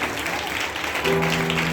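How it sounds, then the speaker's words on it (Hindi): A church congregation at a Hindi-language Christian service claps together in a steady, continuous stream of applause, fairly loud throughout with a brief sustained tone entering partway. "यहाँ ताली आपकी रुकनी नहीं चाहिए प्रभु यीशु मसीह के नाम से।"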